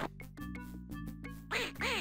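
Cartoon duck quacking in The Playroom, a Windows 3.1 children's game by Broderbund, with tonal game jingles followed by two loud, close quacks near the end.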